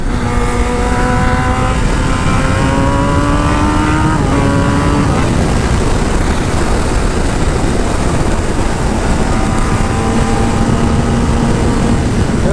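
A Kawasaki ZX10R with a GP shift pattern revs loud and close, its engine note climbing up through the gears in rising sweeps and then stepping back down, with a steady rushing roar of wind and road beneath.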